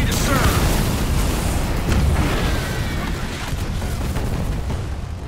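Booming artillery fire from the real-time strategy game Halo Wars 2, a dense, steady rumble of explosions and bursts that stays loud throughout, with game voices talking over it.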